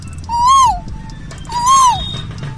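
A boy imitates a koel's call with his voice, producing two rising-and-falling whistled coos, each about half a second long, loud and close against a low background murmur.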